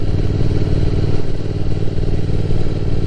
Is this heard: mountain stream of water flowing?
no